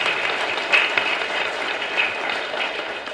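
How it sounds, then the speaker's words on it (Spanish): A congregation applauds at Mass in a small chapel: steady, dense clapping fills the full three seconds with a few brighter swells, and no one speaks over it. "Y un fuerte aplauso para toda nuestra comunidad"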